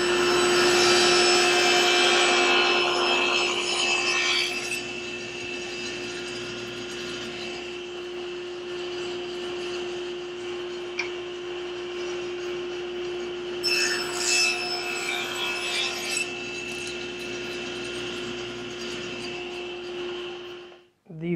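A table saw blade rips narrow strips from a plywood panel, a steady whining cut with a sustained tone that drops off and resumes partway through, ending abruptly.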